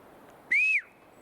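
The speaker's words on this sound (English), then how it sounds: "Whistle." A single short, bright whistle rings out outdoors near a trail, clear and fairly loud against a quiet background, lasting about a third of a second.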